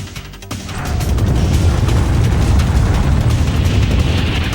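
Heavy explosions from Russian cruise missile strikes on Ukraine, one sharp impact followed by a loud, sustained roaring rumble that keeps booming without pause.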